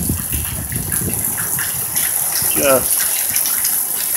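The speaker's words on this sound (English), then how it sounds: "We have a problem with the puddle here, but it drains out down there." Rainwater gushes and trickles steadily as a puddle drains away outdoors, a close, continuous watery rush with a brief spoken word over it.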